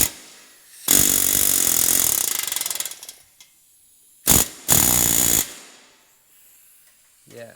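A rivet gun hammers brass rivets against a bucking bar in rapid, loud bursts, one long burst followed by two shorter ones, with quiet gaps between.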